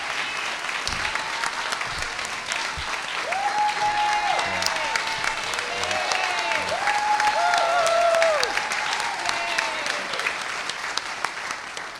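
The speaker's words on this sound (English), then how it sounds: "the applause says it all" A crowd applauding and cheering after a mayoral concession speech in Seattle; sustained loud clapping with whoops and shouts that builds through the middle, along with scattered voices.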